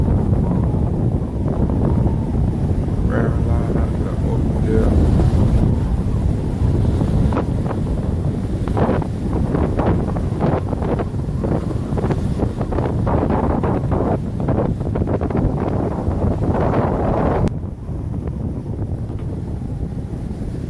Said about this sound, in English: Deep swell out the ocean out there.